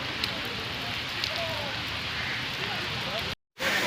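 Heavy downpour at Sankey Tank in Bangalore, Karnataka, a steady dense hiss of rain falling on surfaces that runs nearly unbroken, close and loud, before a brief dropout near the end.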